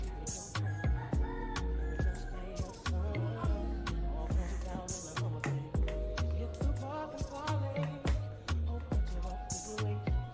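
Chickens cluck and a rooster calls over a steady backdrop of rhythmic music, the birds close by and fairly loud throughout.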